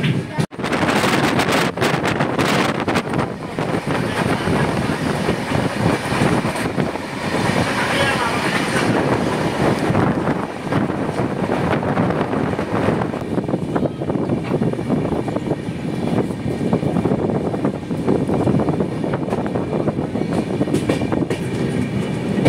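A passenger train on the Guwahati–Agartala line rolls away from Chaparmukh junction toward Hojai, a loud, continuous rumble of wheels on rails with rhythmic clatter and buffeting wind noise throughout.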